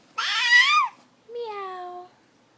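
A person imitates a cat twice: a high, bright meow followed by a lower, drawn-out one, each clear and close.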